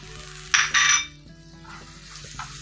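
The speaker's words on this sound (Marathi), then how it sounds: "आणि मिक्स करून घेऊ मसाले जरा अर्धा मिनटं परतून घेऊ" Ground red chilli powder and turmeric stirred into softened tomato in a pan, two bright bursts of scraping and sizzle from a spoon against the metal, then quieter stirring with a soft clink, up close with no talk.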